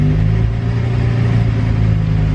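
A rebuilt manual Lamborghini Murcielago engine idles steadily right after its first startup, a loud, even mid-low rumble with a constant throb and no revving, heard close and alone.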